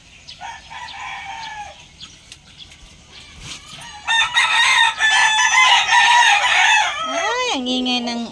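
A rooster crows nearby, its call rising and falling in long harmonic bursts, with clucking and other fowl sounds around it.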